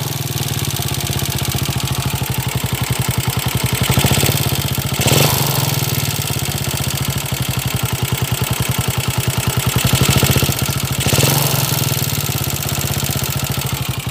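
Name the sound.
noisy Rider 150 motorcycle engine running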